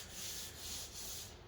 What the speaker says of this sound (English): How's that wet sanding going?